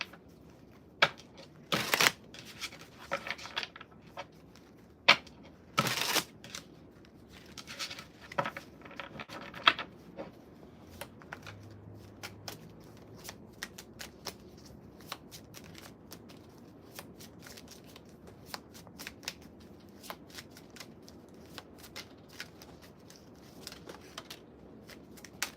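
Tarot cards are shuffled in quiet, scattered bursts of soft riffling and papery taps, close to the listener but faint, with some sharper slaps early on.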